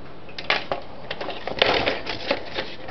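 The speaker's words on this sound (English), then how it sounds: "Cut one side of it." Scissors or a blade snipping along one side of a corrugated plastic tube from a hardware store, a run of close, crisp clicking cuts and crunches with no talk.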